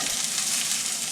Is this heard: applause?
no